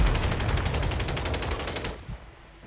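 Rapid automatic gunfire from a Call of Duty MW3 Warzone match, a dense, loud burst of repeated shots lasting nearly two seconds before cutting off to quieter background.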